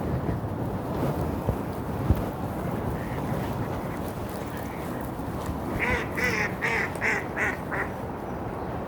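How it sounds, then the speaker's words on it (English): Ducks quack in a rapid series of calls over a wind-blown outdoor background at Sullivan's Pond in Dartmouth, Canada, in February, growing louder toward the end. "They were just quacking away at me."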